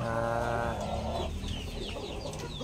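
Gamefowl chickens cluck and call close by, a loud harmonic squawk at first giving way to quicker scattered clucks.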